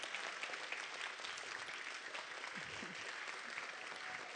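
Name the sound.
audience applause at awards ceremony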